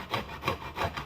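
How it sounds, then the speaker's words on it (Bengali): Raw cauliflower is rubbed against a hand grater in three quick rhythmic strokes, each giving a close, soft rasping scrape. "এখন আমি এই ফুলকপিটাকে ভালো করে ঘষে নেব, গ্রেট করে নেব এর সাহায্যে"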